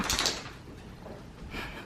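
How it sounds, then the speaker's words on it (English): A bedroom door being opened at home, heard quietly as a soft swish and clunk at the start, then a second faint movement near the end, with no talking. "Just trying to sneak in my bedroom door."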